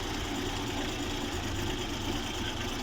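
Suzuki Ravi engine idling unevenly with one spark plug wire pulled off, a steady close rumble that runs throughout with no voices.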